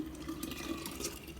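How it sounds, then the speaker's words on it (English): Homemade blended water kefir poured into a jar with the rest of the kefir, a soft close liquid splashing and trickling that runs continuously at low volume without talk. "and then I'm just going to pour all of this"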